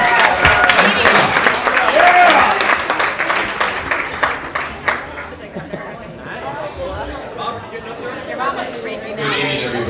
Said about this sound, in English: Please give them your warm round of applause and welcome them to the podium.